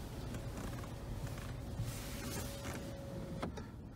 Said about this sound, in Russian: Опускается шторка и включается камера заднего вида.